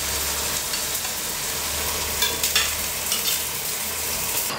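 Meat frying with onions in sunflower oil for tas kebab, a steady crackling sizzle with a few clattering stirs of the utensil partway through, heard without any speech.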